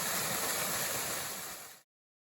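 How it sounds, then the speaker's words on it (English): A small waterfall spilling into a pool on the Appalachian Trail, a faint steady rush of falling water that continues evenly before cutting off abruptly. "Beautiful little pool and waterfall here."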